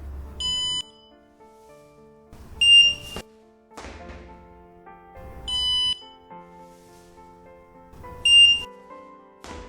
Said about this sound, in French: attendre le prochain bip lent pour redescendre et le prochain bip court pour sauter